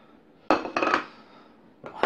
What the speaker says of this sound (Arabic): وهنقلب كل المكونات دي مع بعض